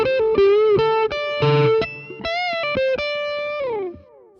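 Lead guitar tone through distortion and effects, recorded with ribbon and condenser microphones together: a sustained melodic line of bent and held notes, loud and close, with no talking.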